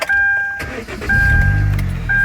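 A Kia Koup with a high-mileage Theta engine cranks and catches, settling into a steady close idle, with a tonal whine and brief mechanical clicks alongside, no talk.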